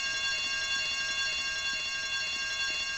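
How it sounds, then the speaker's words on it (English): Alarm in the video game GTA Vice City, a continuous shrill electronic ringing, steady and loud with no voices in the clip. "I told you not to touch that alarm!"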